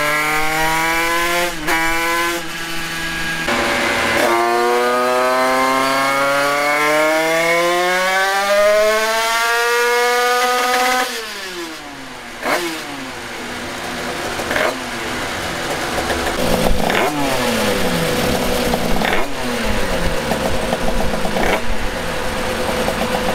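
A 50cc motorcycle engine revs hard on a dynamometer roller, pitch climbing steadily through the gears over several seconds, then drops and blips repeatedly with sharp throttle bursts, loud and close.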